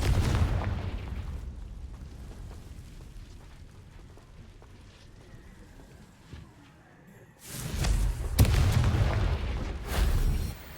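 Confringo fire spell from the video game Hogwarts Legacy bursting with a loud booming blast, followed by lingering rumble and quieter crackle, then a second heavy burst of explosive noise near the end.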